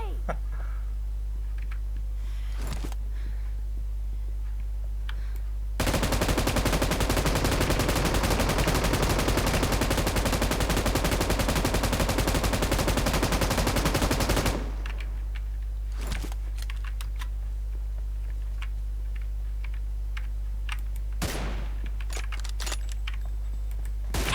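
Rapid bursts of gunfire from the mobile battle royale game PUBG Mobile in Arena mode, a dense loud stretch of shots lasting several seconds in the middle, with quieter game sounds before and after.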